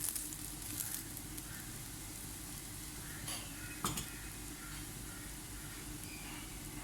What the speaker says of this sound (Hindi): अब तो ये तैयार हो रहे से मैं थोड़ा थोड़ा सा घी डालूंगी।